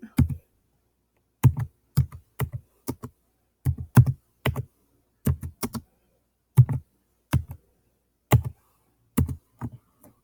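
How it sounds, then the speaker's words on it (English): Keys clack on a computer keyboard in short irregular clusters with silent gaps as an uppercase letter code is entered, each tap crisp and close. "once those letters are all typed in, you can hit go"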